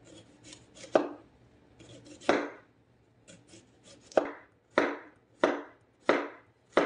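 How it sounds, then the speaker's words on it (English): Knife slicing summer squash thin on a cutting board for an Italian sausage casserole, about eight sharp, separate chops in an uneven rhythm, close and fairly loud, with no talking. "And I'm slicing it really thin."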